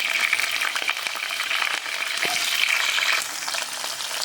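Garlic, green chillies and onion frying in spattering oil for meen kuzhambu fish curry, a loud, close, continuous sizzle with dense crackling that softens slightly toward the end, no talking.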